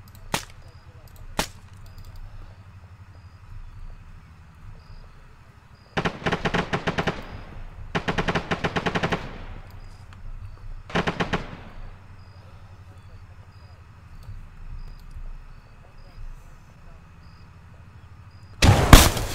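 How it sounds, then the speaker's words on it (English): Rapid automatic gunfire cracks out in several sharp bursts during a combat firefight. Single loud shots break long quiet gaps between the bursts. "Keep shooting, watch and shoot, watch and shoot."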